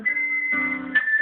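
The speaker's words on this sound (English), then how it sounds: "There's your happy whistling music." Cheerful whistled tune from the video game Deadly Premonition, a clear melody of held notes, alone with no talking.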